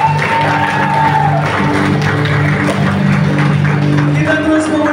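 Wedding guests at a church ceremony applaud the newlyweds in a loud, dense wash of clapping and crowd noise, with sustained voices and cheering blended in throughout.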